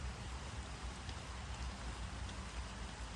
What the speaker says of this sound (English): the rain's moving in heavy